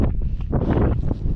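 Strong mountain wind buffeting the microphone at altitude, a constant loud rumbling roar with gusty surges and no voices.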